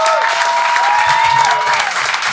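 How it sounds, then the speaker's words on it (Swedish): Live podcast audience claps loudly and steadily in a continuous wash of applause, with a few faint cheers and tonal sounds threading through it. "Ja, jävla applåd för dig."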